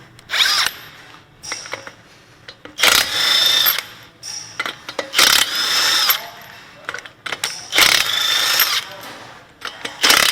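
A power tool removes lug nuts from a Toyota wheel with loud, close bursts of whirring and ratcheting, four or five separate runs broken by short quiet gaps.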